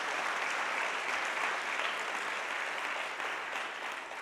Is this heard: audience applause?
yes